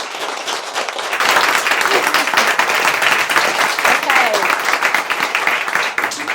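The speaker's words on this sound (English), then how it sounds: "I want you to give yourself a big clap" Clapping from a standing audience at a workplace wellbeing event, a full burst of applause swelling after a brief start and continuing steadily, with a little voice underneath.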